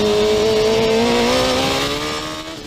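A race car engine, a kart-style racer at OVRP, revs loudly and steadily as the throttle is rolled on, its pitch climbing gradually in a smooth, sustained drone before easing slightly at the end.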